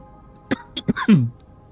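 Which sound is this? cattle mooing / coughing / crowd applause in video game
coughing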